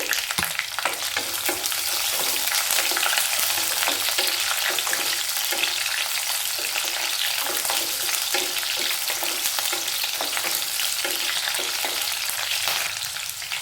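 Finely chopped green chillies fry in hot oil with curry leaves, a steady, fairly loud sizzling crackle with occasional stirring, with no voices throughout.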